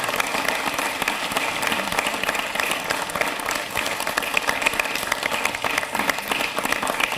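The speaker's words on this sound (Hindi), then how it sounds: "जोरदार तालियों के साथ स्वागत कीजिए" Studio audience applauding steadily to welcome a guest, a Purnia MP, onto the set of a Hindi TV talk show; dense, continuous clapping throughout at an even level.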